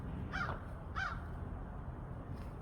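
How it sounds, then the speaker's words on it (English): A crow caws twice in quick succession, clear but somewhat distant, with a third fainter call at the end over steady outdoor background noise during a walk. "that crow has an announcement"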